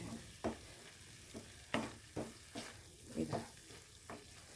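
Curry leaves, salt and tomato frying in a pan, with soft sizzling under repeated stirring scrapes, about eight distinct strokes, close and fairly quiet, without voices.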